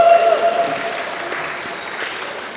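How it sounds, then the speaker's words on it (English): An audience applauds to welcome a panel on stage at an education event, a dense, steady clatter of clapping that is loudest at the start and eases off slightly over a few seconds. "Let's give a warm welcome, and I do mean warm, so I want to hear a lot of applause."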